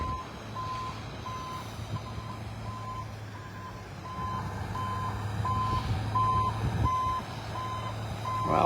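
A truck backs down a beach in North Naples, Florida, its reversing alarm beeping in an even, steady rhythm over the low rumble of the engine, fairly close and with no one talking.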